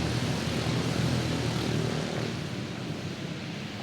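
A pack of race cars at a speedway roars back up to speed on a green-flag restart, a loud sustained engine drone from the field that eases slightly toward the end.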